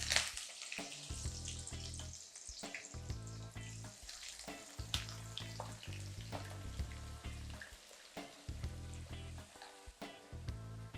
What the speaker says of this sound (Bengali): আলুটা আমি লাল, লাল করে ভাজবো না, কিন্তু সফট করে ফেলবো আরকি তেলের মধ্যে ভেজে।